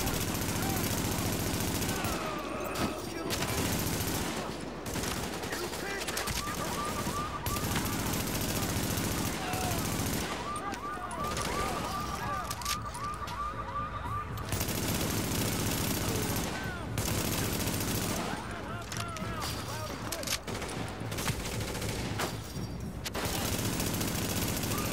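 Gunfire in the video game Tom Clancy's The Division, rapid bursts crackling over a dense game soundtrack and ambience throughout, with a player's voice talking over it.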